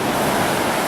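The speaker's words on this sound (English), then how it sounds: "Here comes the wave." Pacific Ocean surf on a beach at Brookings, Oregon: a steady, loud wash of breaking wave noise filling the whole second, broad and hissing with some wind buffeting the microphone.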